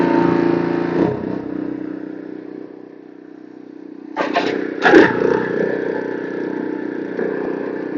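Small gas engine of a lawn aerator running steadily at moderate volume, then throttled up with a brief surge and a louder, higher drone that keeps going.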